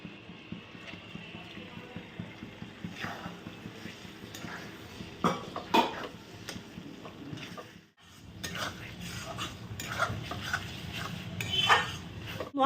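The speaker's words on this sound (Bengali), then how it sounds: "এবার এতে দিয়ে দেবে টমেটো কুচি।" Chopped tomato goes into spiced masala in a pan and is stirred, with metal spoon scrapes and clinks against the pot over a low sizzle, and a short quiet pause midway.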